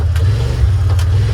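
Off-road buggy engine running near and loud with a low, steady throaty rumble and slight revving swells, alone with no talk.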